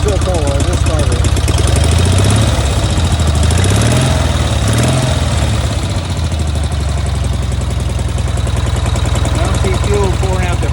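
A Cushman Truckster's small engine idles cold on gravity-fed fuel, a loud, close, steady chugging drone with a slight uneven wobble in pitch throughout.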